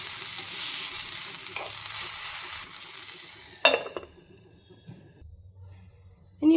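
Steady frying sizzle with a spoon stirring and scraping through leafy-green thoran vegetables in a pan, a louder clatter partway, then quieter sizzling alone.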